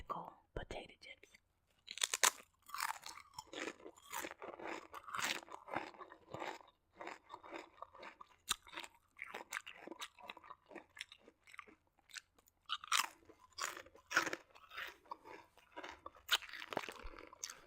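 Dill pickle potato chips being crunched and chewed close to the microphone, with repeated crisp bites and chewing in uneven bursts, fairly quiet overall, with occasional soft whispered speech.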